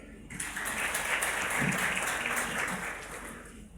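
A crowd applauds warmly at a real estate company's community event, steady dense clapping that swells slightly in the middle and holds at a full, even level throughout.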